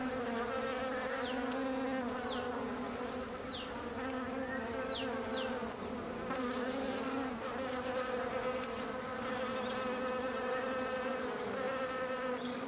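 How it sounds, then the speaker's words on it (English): Honeybees buzz steadily around flowers outdoors, a dense, continuous drone of many insects close by with occasional bird chirps over the top. "The honeybees were making most of the noise"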